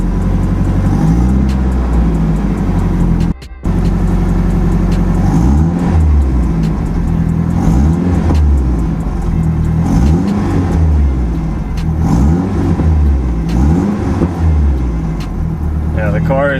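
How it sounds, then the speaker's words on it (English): A Nissan S chassis car engine, not yet warm, idles high and revs up several times in rising and falling sweeps, loud and close, with a brief cut near the start. "the car's not warm yet, so it's still idling a little high"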